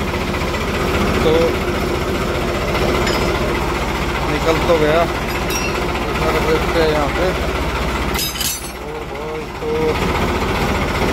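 A tractor fitted with a ripper runs with a steady, loud engine drone and a rough knocking vibration throughout, while someone talks over it.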